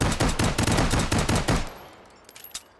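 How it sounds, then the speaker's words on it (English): A 1951-made M1951 pistol firing 9x19 rounds in a rapid string of loud, close shots, about a dozen evenly spaced reports in quick succession, then stopping abruptly with faint clinks afterward. "we've got the M1951, made in 1951, shooting, again, 9x19"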